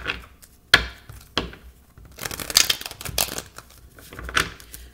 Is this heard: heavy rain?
no